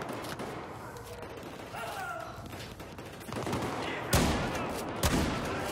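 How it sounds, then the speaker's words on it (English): Shotgun fire in Battlefield 4 during the South China Sea campaign on hard difficulty, two sharp heavy blasts near the end over a dense bed of combat noise and distant gunfire. "This shotgun has some range on it."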